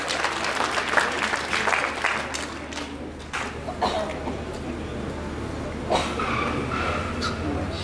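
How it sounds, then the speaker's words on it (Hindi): Audience applause welcomes a guest at a Bhagwat Katha religious gathering at a darbar, a steady crowd clapping with coughs and murmurs running through the whole stretch. "तालियों से स्वागत"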